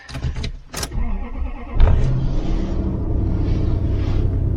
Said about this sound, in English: Oh, it starts up some. I love this truck